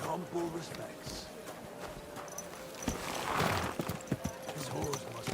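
Horse hooves clip-clop at a run in Kingdom Come Deliverance 2, a medieval open-world video game, steady rhythmic beats under a continuous ambient bed with a brief whinny-like swell midway.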